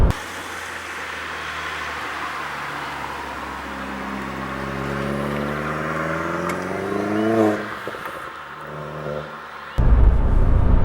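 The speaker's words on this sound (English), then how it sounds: "there's some pretty exceptional noises going on back there. And that is down to the exhaust setup." Exhaust note of a Volkswagen Polo GTI while driving, a steady engine drone that climbs in pitch as the car accelerates, then drops back to a settled cruise, with a sudden burst of wind or road rumble at the end.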